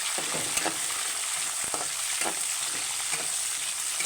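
Peanuts, chana dal, seasoning seeds and green and dried red chillies frying in hot oil, a steady close sizzle with faint stirring scrapes and no talk.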